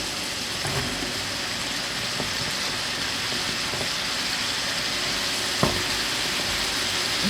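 Asparagus and shrimp stir-frying in a hot pan make a loud, continuous close-up sizzle, broken by occasional sharp clicks from stirring.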